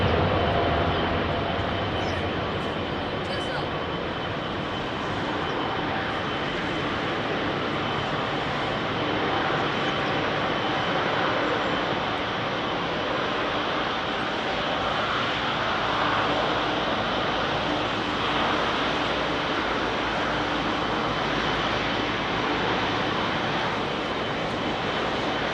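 A Rolls-Royce powered airliner departing London Heathrow runway 27R, its engines producing a loud, sustained broadband roar that stays steady for the whole stretch, nearby and uninterrupted by speech.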